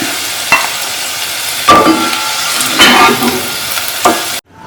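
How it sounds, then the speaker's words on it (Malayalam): Okra frying in hot oil gives a loud, continuous sizzle, broken by a few stirring scrapes and clatters, and ends abruptly. "വെണ്ടയ്ക്ക ഒരു 5 മിനിറ്റ് ഫ്രൈ ചെയ്തു."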